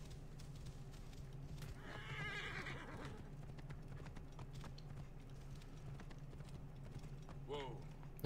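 In the Assassin's Creed Origins video game, a horse whinnies and neighs twice against steady hoofbeats and clip-clop. Someone talks over the horse sounds throughout.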